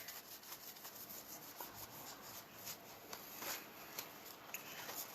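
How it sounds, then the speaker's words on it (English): A tarot card deck shuffled by hand, a faint, steady rubbing and sliding of cards against each other with soft, continuous friction and no clear breaks, heard quietly and alone. "So, just gonna shuffle the deck and ask Spirit for guidance"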